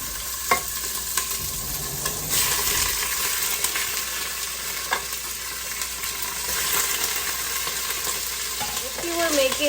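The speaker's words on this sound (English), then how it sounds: "I'm just going to put them right into the oil." Chicken pieces frying in hot oil for adobo, a steady crackling sizzle with scattered pops, clicks and stirring clatter, close and moderately loud, no talking.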